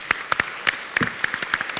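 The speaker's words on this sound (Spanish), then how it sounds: "pido un fuerte aplauso para todos los participantes" Scattered hand claps from a conference audience at a national tourism forum panel, sparse and uneven, a handful of separate claps rather than full applause.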